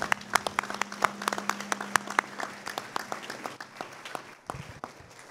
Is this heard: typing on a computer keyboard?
no